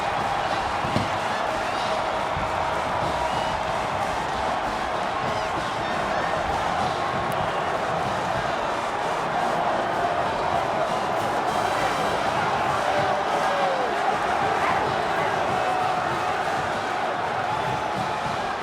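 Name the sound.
football stadium crowd storming the field after Old Dominion win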